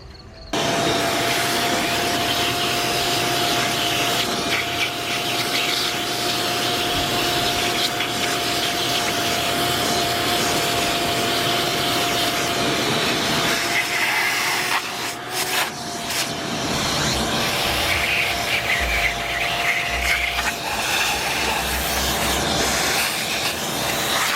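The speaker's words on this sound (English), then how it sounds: "Got my big shop vac here, wet dry vac." A large wet/dry shop vac runs steadily close by, a loud continuous roaring hiss with a steady motor whine that holds for the whole stretch with only brief shifts in tone.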